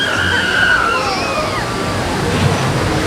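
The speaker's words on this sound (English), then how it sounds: "Get ready for the splash." A theme park water ride sends up a big, steady wash of splashing and sloshing water, loud and continuous throughout, with crowd voices mixed in beneath.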